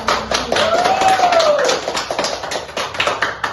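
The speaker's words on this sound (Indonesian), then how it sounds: "Mari kita bertepuk tangan untuk memberi aplaus untuk kita" A class claps in applause, a brisk patter of many hands for a few seconds while a voice sings or speaks a rising-and-falling tone over it.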